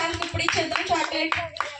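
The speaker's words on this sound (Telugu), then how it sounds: "వానికి అందరూ చప్పట్లు కొట్టండి రా." Children clap together at a village church children's ministry gathering, a short run of quick claps heard close, mixed with young voices and talk over it.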